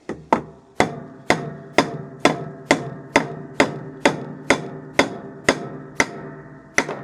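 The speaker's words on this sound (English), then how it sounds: "So what I'm going to do is hammer it so this part is flat. I'm going to use a brass hammer." A brass hammer strikes a metal part to flatten it, fifteen sharp ringing blows at a steady, roughly half-second rhythm, close and loud with each hit decaying quickly, no speech.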